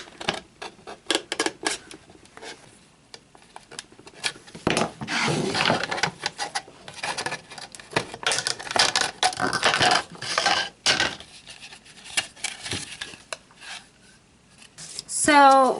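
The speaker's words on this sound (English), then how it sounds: "I'm going to take my razor knife and just kind of cut through the plastic all the way around" A razor knife slices around the plastic of a silicone mold setup, giving scratchy, uneven cutting strokes in bursts, close and fairly loud, with a brief louder rasp near the end.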